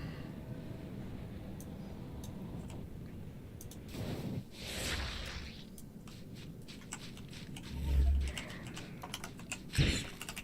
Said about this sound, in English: Maybe if I say things out loud, I'll quit hitting the wrong keys.